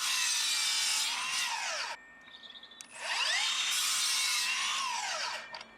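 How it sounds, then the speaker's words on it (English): Saw cutting angled ends to a point on good-quality reclaimed timber roof battens for a DIY fence, two loud sustained cuts separated by a brief quieter pause, close and alone. "make a cut, flip the piece 180 degrees and make another cut to form a nice point"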